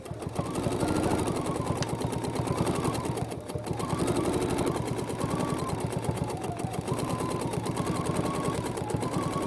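A BERNINA sewing machine with stitch regulator stitches free-motion wiggles and squiggles across a quilt, a steady, fast mechanical whirring with rapid needle chatter that runs continuously and close by, with one brief dip partway through.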